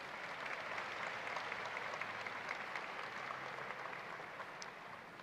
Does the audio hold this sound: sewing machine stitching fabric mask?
no